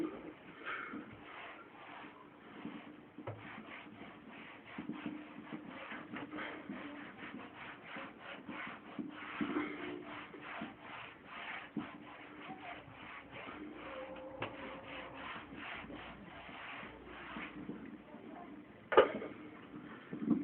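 Writing gets rubbed off a board in a long run of soft, repeated scrubbing and shuffling strokes. The sound is faint and muffled and stays steady for about twenty seconds.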